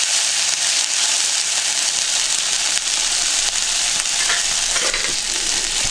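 Ground ginger paste with dried red chillies, nigella seeds and a splash of water fries in a pan with a loud, steady hiss that runs unbroken, broken only by faint scraping stirs.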